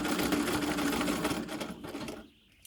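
A treadle sewing machine stitching along a fabric edge, a close, steady mechanical whir that slows and stops after about two seconds.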